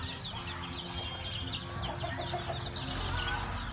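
Black chickens cluck and chatter on a farm in Thailand, several birds making soft repeated calls over steady low background noise, with no talking.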